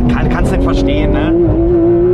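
A Porsche GT3 RS taken flat out through a corner on the Nürburgring, its engine a loud sustained drone with rising pitch heard from inside the car while people talk over it.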